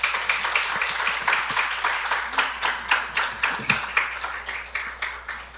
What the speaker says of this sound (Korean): 박수로 환영하도록 하겠습니다